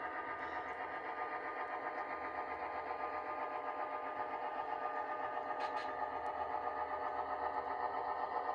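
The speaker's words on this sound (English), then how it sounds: "So the switcher has dropped its caboose. And is now approaching the Union Carbide siding." An HO-scale model switcher locomotive runs along a layout modeled on the TH&B Welland and Dunnville Sub, giving a steady, quiet motor whine with a faint rhythmic clatter and no talking.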